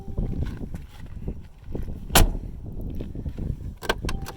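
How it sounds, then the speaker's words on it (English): The door of a 2019 Mercedes-Benz G-Wagen shuts with one solid, sharp thump. It sits among low rumbling handling noise outside the vehicle, with a few lighter clicks after it. "Listen to how awesome this door sounds."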